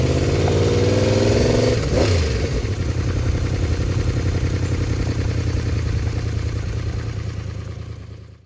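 A motorcycle engine revs up from a sharp throttle snap, then falls back to a steady, loud idle that hangs slightly high before fading out toward the end.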